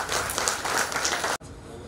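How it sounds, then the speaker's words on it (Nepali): Audience applause at an outdoor park talent-show grand finale, greeting a bhajan performance; dense, steady clapping fills the scene, then cuts off abruptly near the end, leaving only quieter background. "उहाँको भजनको लागि एकपटक जोरदार ताली बजाउँ।"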